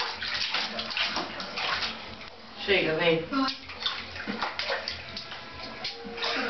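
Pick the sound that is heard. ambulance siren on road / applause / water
water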